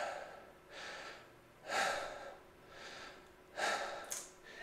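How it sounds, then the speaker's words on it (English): A person breathing into a microphone in slow alternating cycles, softer inhales and louder sharp exhales roughly every second, close and alone. "So I'm gonna go ahead and just breathe here."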